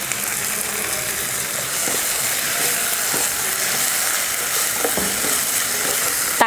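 Tomato cooks in hot oil along with onion, chilli, ginger and garlic for an egg kurma, giving off a loud, steady sizzle with scattered soft stirring clicks and scrapes, close by and without speech.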